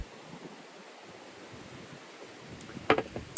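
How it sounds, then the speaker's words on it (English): Wind blowing outdoors on a chilly day, a steady broadband rush buffeting close to the microphone throughout, with a louder gust near the end. "It's a little windy today, if you haven't already been able to tell."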